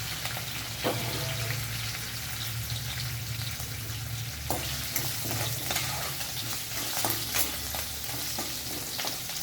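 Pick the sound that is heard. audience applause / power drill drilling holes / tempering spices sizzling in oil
tempering spices sizzling in oil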